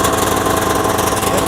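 The engine of a homemade amphibious vehicle runs with a loud, steady, buzzing drone, close by and continuous with no pauses.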